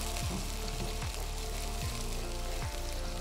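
About a tablespoon of Malka ginger garlic paste fries in a hot pan with a steady, close sizzle. A few soft spoon scrapes sound over it, and no one talks.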